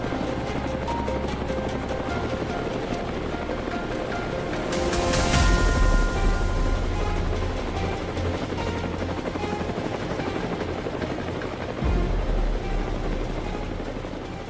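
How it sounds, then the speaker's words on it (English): A helicopter flies over hot Texas country on a wild hog hunt, its rotor thumping loud and steady, swelling briefly closer midway and then holding a constant roar. "The helicopter roared into the scorching sky"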